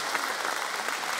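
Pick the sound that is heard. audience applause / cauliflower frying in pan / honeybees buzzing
audience applause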